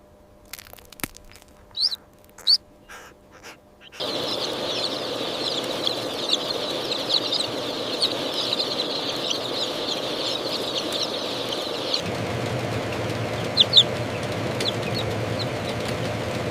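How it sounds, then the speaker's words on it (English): Chicks hatching inside a large industrial chicken hatchery: scattered clucks and peeps at first, then a dense chorus of chirping chicks over a steady mechanical hum, with the hum deepening partway through. "On day 21, hatching begins."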